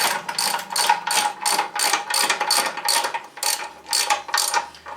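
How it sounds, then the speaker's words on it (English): A ratchet tightens the wheel axle nut on a Triumph Bonneville motorcycle, giving close, steady bursts of rapid clicking in a regular back-and-forth rhythm, with no other sound. "Now let's do this nut up to a reasonable torque before we actually drop it down"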